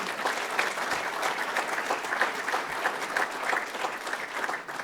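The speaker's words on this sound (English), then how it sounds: "And I think they deserve a round of applause." A large audience applauding at a Regional Transportation Authority event, dense sustained clapping from many hands at an even level for several seconds, with no voices over it.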